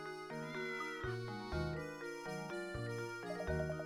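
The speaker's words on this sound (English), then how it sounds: "What's this cat doing here?" A cat meows in the Professor Layton and the Curious Village video game, sounding over a melodic game music score with steady tonal notes throughout.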